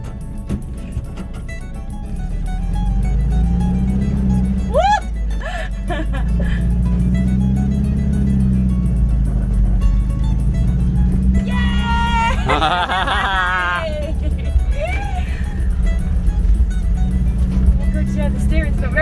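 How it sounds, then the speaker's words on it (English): Engine of a VW Kombi bus droning steadily from inside the cabin as it is driven, with low rising and falling rumbles through gear changes, while people talk and laugh over the motor. "Sashbon's first go ever driving a bus."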